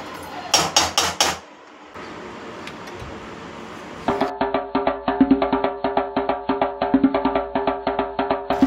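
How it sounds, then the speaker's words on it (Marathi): A knife cuts through three boiled eggs on a board in a home kitchen, first a few quick taps, then after a pause a long run of steady, evenly spaced chops, close and fairly loud. "तोपर्यंत आपण अंडी कापून घेऊयात"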